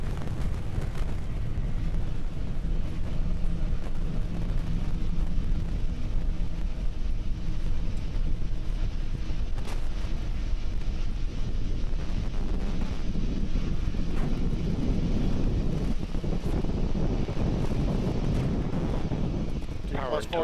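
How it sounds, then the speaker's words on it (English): SpaceX Falcon 9 rocket launch with nine Merlin 1D engines on the first stage, heard as a continuous deep roaring rumble with wind buffeting, steady and loud throughout, and crackling that grows toward the end. "We're currently throttling down the 9 Merlin 1D engines on the first stage"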